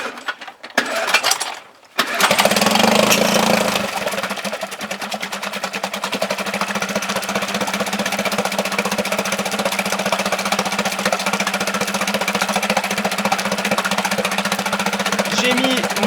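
An outboard boat motor is started, catching after a brief pull and then running at a steady, loud idle with a buzzing drone and rattling metallic clatter throughout.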